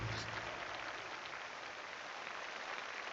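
Arena crowd applause in the video game Fable Anniversary, a steady dense wash of clapping and noise filling the whole stretch at an even level.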